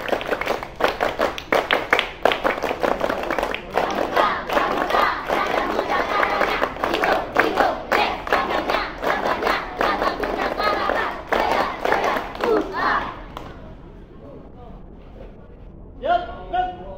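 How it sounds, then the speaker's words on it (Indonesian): A group performs Indonesian scout claps (tepuk pramuka) outdoors, a long run of loud, rhythmic clapping patterns with some shouts that stops abruptly, followed by quiet and then a voice. "3 kali tepuk pramuka"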